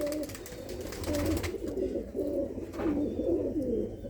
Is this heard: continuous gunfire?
no